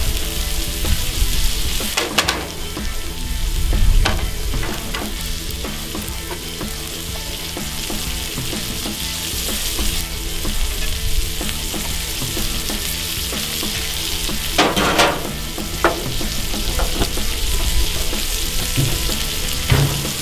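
Fries sizzle steadily on a Cuisinart 360 griddle, a loud, continuous hiss with occasional scraping taps of a spatula and no talking.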